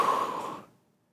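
A single soft, breathy exhale during a floor stretch in a beginner core and cardio slide board workout, close and quiet, fading out after about half a second.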